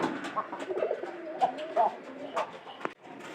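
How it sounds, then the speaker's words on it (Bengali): Domestic pigeons and their chicks coo softly in a loft, several low, throaty calls overlapping in an uneven rhythm, close and fairly quiet, with faint background noises between them. "আপনারা একটু লক্ষ্য করে দেখেন যে কবুতরের বাচ্চাটা কত বড়"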